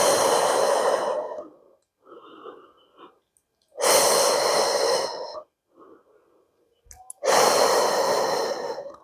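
Long, heavy exhaled breaths during a Pilates exercise, three strong breathy rushes close to the mic with quieter intakes and brief silences between them.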